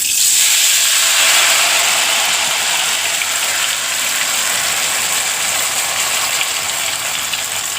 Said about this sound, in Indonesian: lakukan penggorengan hingga selesai ya teman-teman